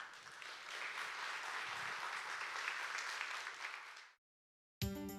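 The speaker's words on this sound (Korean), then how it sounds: "큰 박수로 맞이해 주세요." Audience applause welcoming a dinosaur-scientist professor onto the stage at a public science lecture concert in Seoul, dense sustained clapping for about four seconds, then stopping abruptly into silence before a brief new sound.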